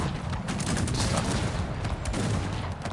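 Dense, continuous rapid gunfire with booming bursts from the strategy video game Cossacks 3, loud and steady throughout, like a heavy firefight with overlapping shots.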